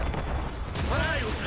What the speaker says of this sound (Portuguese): Manda canhão neles.